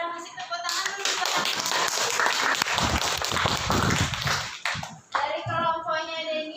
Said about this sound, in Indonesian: Ada masih tepuk tangan dulu buat